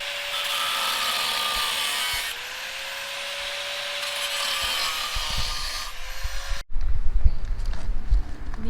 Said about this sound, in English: Angle grinder time.